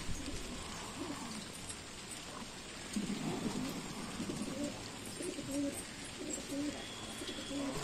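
Pigeons cooing in the rain during Delhi monsoon weather, soft repeated coos close by over a constant wash of rainfall, with a low rumble at times.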